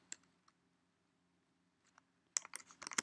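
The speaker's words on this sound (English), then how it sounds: "Press and hold Control and then V." Computer keyboard keys click in a quiet room: a few isolated taps early on, then a quick cluster of sharp clicks near the end as a Control V paste shortcut is pressed, close and crisp over a faint hum.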